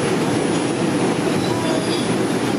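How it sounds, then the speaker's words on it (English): Steady, loud rumble of a New York subway train heading uptown toward Times Square, heard from inside the car as the wheels roll and hiss continuously on the rails, with no voices. "Finally on the train, on our way back home."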